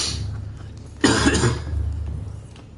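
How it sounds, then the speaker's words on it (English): A single harsh cough from someone suffering allergies bursts out about a second in, following a low background hum, with a rougher throaty tail afterward and no speech. "God damn it, I'm still coughing."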